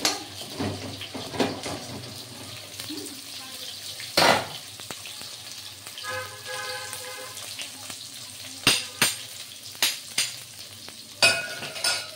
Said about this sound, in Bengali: হ্যাঁ, বেগুন আর আলুটা ভাজবো।